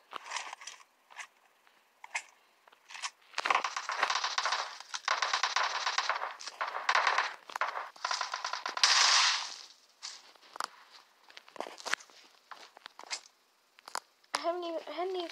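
Gunfire in the PUBG battle royale video game, with sustained automatic bursts over several seconds and scattered single shots before and after, under a player talking throughout.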